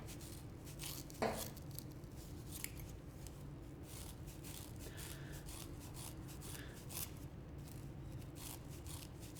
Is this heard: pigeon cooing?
no